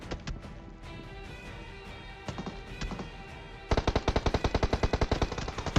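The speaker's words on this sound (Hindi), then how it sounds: "तभी एक ने फायर करा हमारे पर बहुत दूर से" Gunfire in PUBG Mobile: scattered distant single shots and short bursts, then a loud rapid automatic burst of evenly spaced sharp cracks, with no voices.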